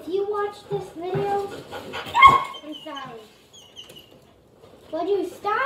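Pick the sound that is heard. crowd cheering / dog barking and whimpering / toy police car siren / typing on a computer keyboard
dog barking and whimpering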